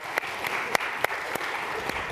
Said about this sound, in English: Big round of applause for John Rankin.